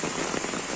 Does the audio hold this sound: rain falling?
yes